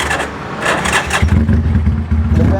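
A Yamaha Scorpio motorcycle, converted to a 450cc two-cylinder engine, cranks and catches, then settles into a loud, lumpy idle with a deep uneven throb, close by.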